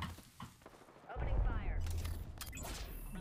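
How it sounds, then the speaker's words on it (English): Video game gunfire erupts midway as dense bursts of shots, loud and sustained, with a player talking over the action. "Oh, I'm being shot at."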